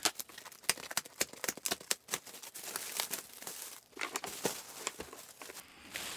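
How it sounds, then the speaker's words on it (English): Plastic wrapping tears and crinkles off a new harmonium during unboxing, a quiet, close run of sharp crackles and rustling bursts with brief pauses between pulls. "let's take off this plastic"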